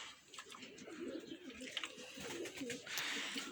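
Pigeons coo repeatedly in low, throaty phrases outdoors, with a steady airy background and occasional faint chirps; they are fairly close and clear, and no one speaks.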